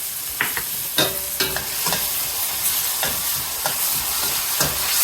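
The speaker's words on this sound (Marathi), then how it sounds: "हे छान मोठ्या गॅस परतून घ्यायचं" Veg manchurian stir-fried with tomato sauce, soy sauce and vinegar on a high gas flame, crackling sizzle under repeated sharp scraping stirs of the spatula in the pan, close and lively.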